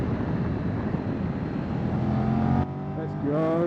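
A Triumph Tiger 1200 motorcycle engine pulls hard under throttle on a Welsh road, a steady loud drone with rushing wind that shifts pitch near the end as revs climb again.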